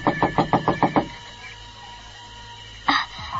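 Knuckles rap on a wooden door in a quick run of about six knocks, near and distinct, followed by quiet and then a single duller bump.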